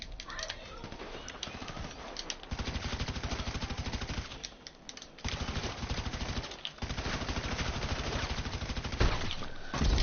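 Gunfire in the video game GTA 5, with rapid automatic bursts crackling in long stretches and a few short pauses, while a player talks over the action.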